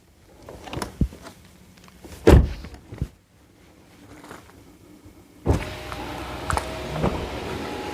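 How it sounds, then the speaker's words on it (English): A Tesla Model 3 Highland door shuts with a few solid thuds, mixed with the short whir of an electric window motor and then a brighter, fuller mechanical rumble toward the end. "now when we close the door"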